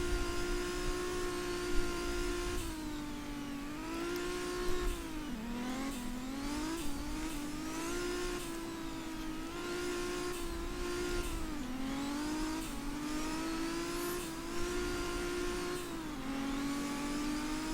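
A video game car on a test drive with manual shifting, its engine droning steadily and repeatedly revving up and dipping through gear changes, loud and continuous with no talk.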